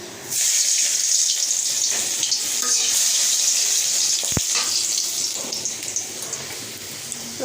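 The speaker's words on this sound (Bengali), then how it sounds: "তেলে দিয়ে দিচ্ছি রসুন" Garlic dropped into hot oil in a pan, a loud, rushing, hissing sizzle that starts abruptly and holds steady, with one sharp thud midway and the hiss easing slightly toward the end.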